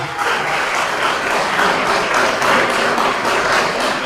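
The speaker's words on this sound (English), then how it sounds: "One more time, for round of applause for ladies and gentlemen" Loud, dense audience applause at a shared parenting conference in New York, continuous close clapping filling the whole stretch without talk.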